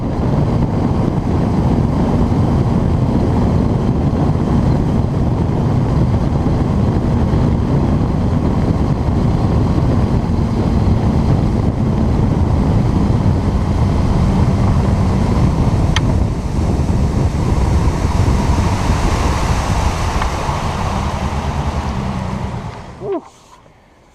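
Fishing boat running across a lake in cold winter crappie season, with a steady loud roar of hull, motor and wind buffeting the microphone for over twenty seconds before cutting off abruptly at the end.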